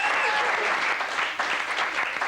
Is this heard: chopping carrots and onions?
no